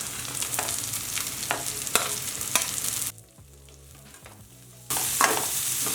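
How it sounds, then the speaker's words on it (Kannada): Carrots and beans frying and being stirred in a pan over a medium flame, a steady close sizzle with scraping strokes, briefly dropping away for about two seconds midway before resuming. "ನಾನಿಲ್ಲಿ ಮೀಡಿಯಮ್ ಫ್ಲೇಮ್ ಇಟ್ಕೊಂಡೆ ಹುರಿತಾ ಇರೋದು ಕ್ಯಾರೆಟು ಬೀನ್ಸು ಸ್ವಲ್ಪ ಮೆತ್ತಗಾಗಲಿ"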